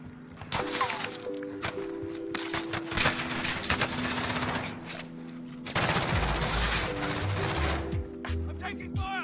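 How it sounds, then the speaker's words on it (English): Rapid automatic gunfire in Call of Duty Warzone, loud bursts of shots clattering in quick strings with short pauses and one long sustained volley, mixed with game sound effects and occasional voice chat. "I'm taking fire."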